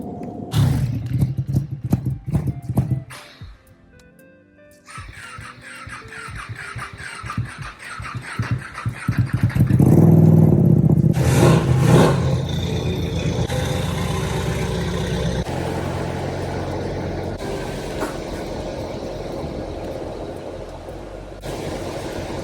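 A Porsche Boxster engine running inside a home garage while the car is moved, swelling louder midway as it revs, then settling to a steady idle, with scattered clunks and handling noises around it.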